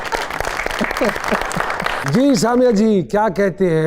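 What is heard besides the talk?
applause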